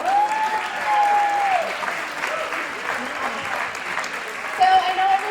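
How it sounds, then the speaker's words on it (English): Applause at an evening Parkinson's fundraiser with a live band, steady crowd clapping throughout, with a sustained sung or tonal note over it and some voices mixed in. "Can we give them a round of applause?"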